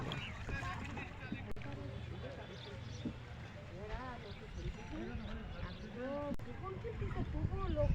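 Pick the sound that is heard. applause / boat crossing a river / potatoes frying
boat crossing a river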